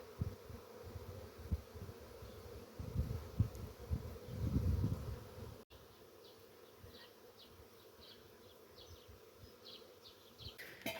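A swarm of honeybees entering a swarm trap in a garden, a close, dense buzzing hum that swells loudly then settles into a quieter steady drone with birdsong chirping in the background.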